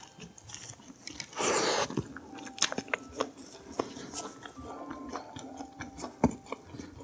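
Someone bites and chews a jambon butter bagel sandwich with mustard mayo sauce, close crunchy bites followed by repeated soft chewing and smacking, no talking.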